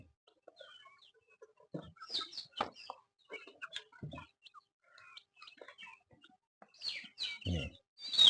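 Young ayam pelung chickens, about three months old, cluck and chirp in a run, a scatter of short calls at irregular intervals with louder bursts near the end.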